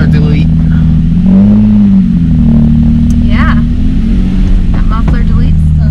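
An Infiniti G35 with a muffler delete holds a loud, steady droning exhaust note, swelling slightly in one rev, close by throughout.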